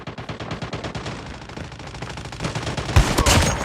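Rapid shotgun blasts in a video game, fired in quick bursts with loud sharp reports and a dense, sustained clatter of gunfire that intensifies with heavier booms near the end.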